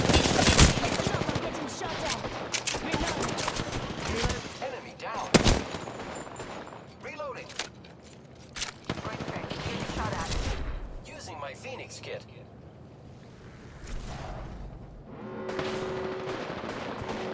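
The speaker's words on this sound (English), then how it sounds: "I am taking fire, friends." Gunfire in Apex Legends comes in scattered bursts: sharp single shots and rapid volleys, loudest early and around the middle, with a player talking in between and quieter pauses.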